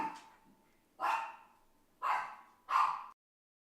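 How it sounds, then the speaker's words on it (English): A Pomeranian dog barks indoors, three sharp, separate barks about a second apart, close and moderately loud, followed by silence. "Pomeranian is barking."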